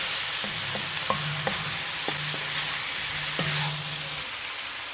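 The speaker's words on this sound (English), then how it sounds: "Let's mix everything in again." Shrimp lo mein gets tossed and stirred in a hot pan, a soft continuous sizzle under repeated scraping and clacking strokes of a utensil at an irregular pace, close and fairly quiet.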